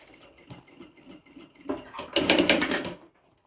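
A sewing machine stitches the edge of a sublimated fabric document holder, starting with a light, rapid patter and swelling into a louder, denser mechanical whir for about a second before stopping abruptly.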